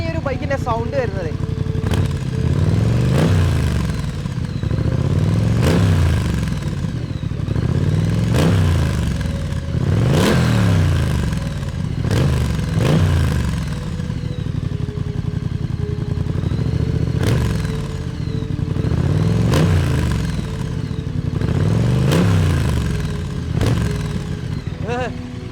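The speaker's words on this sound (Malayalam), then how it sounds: "ഇതാണ് ഇതിൻ്റെ ആ ഒരു 900cc പാരലൽ ട്വിൻ സിലിണ്ടർ എഞ്ചിന് പ്രൊഡ്യൂസ് ചെയ്യുന്ന ആ ഒരു സൗണ്ട് എന്ന് പറയുന്നത്" A Triumph Street Scrambler with a 900cc parallel-twin engine revs repeatedly, its exhaust surging and falling in a regular cycle of throttle blips, loud and close throughout.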